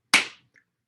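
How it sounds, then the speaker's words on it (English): A single sharp hand clap used as a sync mark before a lecture recording, loud and close, with a quick decay into silence and a faint tick just after. "Sync clap."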